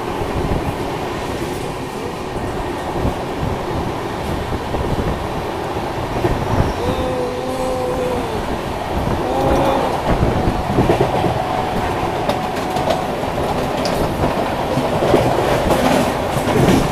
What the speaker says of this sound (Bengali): ট্রেন ছাড়ার সাথে সাথে কি স্পিড দেখো